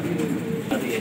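A fancy Gola pigeon coos close by in a soft, low, throaty burble, with someone talking over it.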